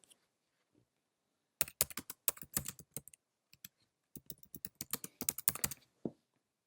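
Quick bursts of typing on a computer keyboard enter a filter name, close, crisp key clicks in uneven clusters with short pauses between them and no talk.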